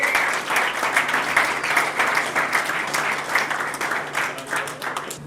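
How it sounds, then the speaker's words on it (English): An audience at a football club awards night gives a player a steady round of applause, dense overlapping claps filling the room for several seconds at even loudness. "Give Liam a big round of applause."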